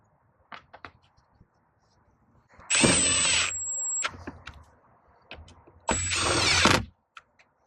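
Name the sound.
power drill driving screws into Ram air filter housing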